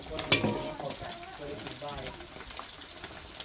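Fried rice being stir-fried in a pan, a faint crackling sizzle with scraping stirs after a sharp clank at the start, while someone talks over it.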